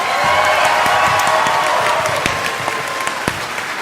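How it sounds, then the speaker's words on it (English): A live convention audience at a Just A Minute panel game gives a big round of applause for the contestants, with dense, steady clapping that fills the room throughout and slowly thins toward the end. "can we have a big round of applause for each of our contestants?"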